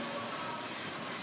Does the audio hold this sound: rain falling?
yes